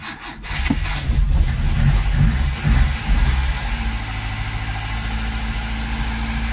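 A petrol engine catches after fuel is poured straight down the carburettor, coughing and turning over before settling into a steady, close, loud idle that runs to the end.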